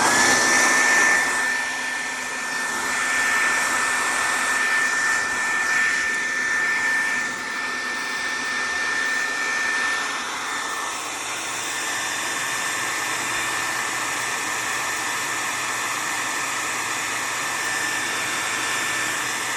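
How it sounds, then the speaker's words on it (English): A blow dryer runs steadily for the whole stretch, a loud continuous whoosh with a high whine, drying a sketchbook drawing up close with no talking. "I have a blow dryer tip for you guys. For anybody who uses a blow dryer to dry stuff."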